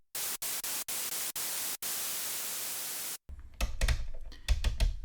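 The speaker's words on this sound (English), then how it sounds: "And you have white noise." Bursts of harsh white noise hiss from a Dreadbox Erebus 3 duophonic analog synthesizer, cut by several short gaps, then giving way to clicking, thumping keyboard-like sounds.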